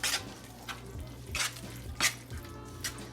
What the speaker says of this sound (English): we're going to mix them in here too